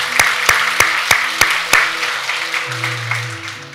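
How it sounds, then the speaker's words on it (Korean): A church congregation claps in thanks during a Korean worship service, with loud, evenly spaced rhythmic claps over a sustained organ or keyboard tone. The claps stop partway through while the music continues. "우리 다시 한번 하나님 앞에 감사의 박수 올려드리도록 하겠습니다."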